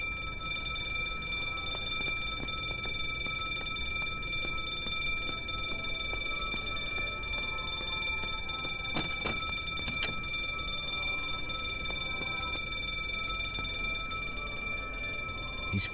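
An alarm keeps up a steady high electronic tone in the video game The Drifter while a character punches in the code, with faint clicks and soft ambient sounds underneath until it cuts off near the end.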